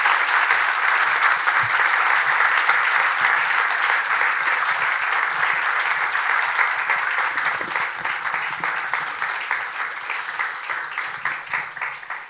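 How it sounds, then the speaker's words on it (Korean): Warm, sustained applause fills a church service as a congregation greets an incoming pastor, a dense wall of clapping that stays loud and then thins slightly toward the end, with no talking over it. "우리 코리안 스타일로 뜨거운 박수, 나올 때까지 박수로 함께 해주시면 고맙겠습니다"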